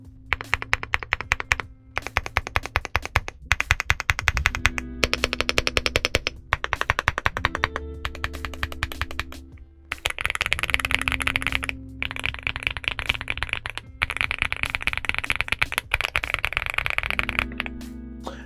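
Rapid clacky keystrokes on a Leobog Hi8SE 75% mechanical keyboard, close and crisp, in continuous bursts of fast typing with brief pauses between runs.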